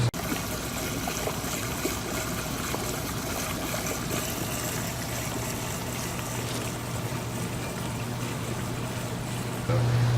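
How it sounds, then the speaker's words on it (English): Air bubbles through an aquaponics clarifier-biofilter while water spills over the top of a standpipe toward a sump, making a steady close trickling wash with a constant low hum, no talking. "We've got our air bubbling through our biofilter, and then we've got water flowing over the top of the standpipe."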